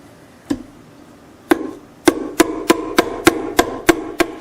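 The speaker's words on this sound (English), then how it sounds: "So I'll just take my plastic hammer." A plastic hammer taps fret wire into a mandolin fingerboard: a few spaced knocks, then a steady run of about eight sharp, close taps at even intervals, with no talking.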